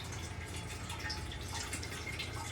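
Water drains from the tap of a new Aquaguard water purifier in a continuous, even hiss of flowing liquid, moderately close and unbroken, with no voices.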